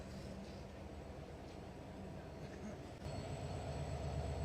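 The Panchagarh Express, hauled by an American-built EMD locomotive four coaches ahead, runs with a steady rail rumble heard from inside a carriage, growing louder and heavier partway through.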